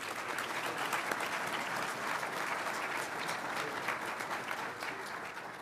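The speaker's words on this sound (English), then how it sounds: "So one more round of applause for First Sergeant Harrell." An audience applauds an honoree, First Sergeant Harrell, at a U.S. Army sergeant majors professional development forum in 2019. The crowd claps steadily and evenly, with a moderate, somewhat distant sound, and no one speaks.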